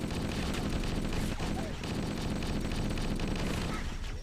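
Grenades and projectile weapons firing in the Cursed Halo video game, a dense, unbroken barrage of explosions and shots, loud and close throughout.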